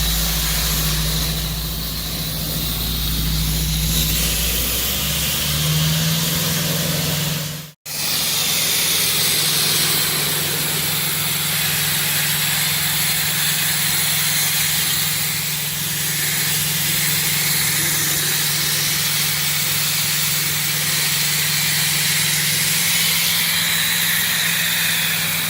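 Compressed-air media blasting of Ford F100 truck parts makes a loud, steady hiss with a low compressor drone underneath. It runs continuously for the whole stretch, cut off by one very brief break partway through.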